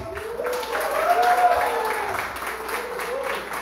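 A church congregation applauds in a sustained, moderate wash of clapping, swelling briefly in the middle, with a voice and faint tone underneath.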